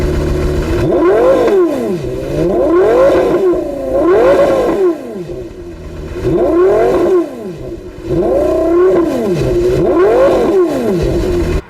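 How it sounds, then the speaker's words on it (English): A Porsche Carrera GT engine revs high, climbing and falling repeatedly through its rev range, loud and close, with the wailing pitch sweeping up and down in waves. "And boy, does that engine sound good."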